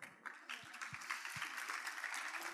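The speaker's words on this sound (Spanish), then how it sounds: "Un aplauso a Katina, por favor." A crowd breaks into steady applause, clapping rising quickly and continuing as a dense wash of hands, with a few low thumps mixed in.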